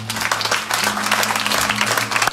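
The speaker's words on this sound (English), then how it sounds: "Let's clap for the Lord." A church congregation at a Sunday service in Ghana claps together, dense sustained applause with a faint hum of voices underneath.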